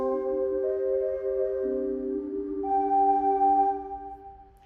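Synthesized music played from Strudel live-coding code: sustained layered tones that shift pitch partway through, steady and fairly loud, with no voices.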